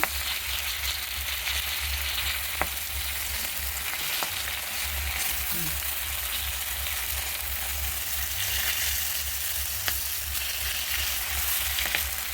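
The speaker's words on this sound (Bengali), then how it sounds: "এক এক করে আমি লাউ শাকটা দিয়ে দিচ্ছি" Bottle gourd leaves go into a pan of fried potatoes, giving a steady, even sizzle and crackle throughout, with a few faint clicks of stirring and no talking.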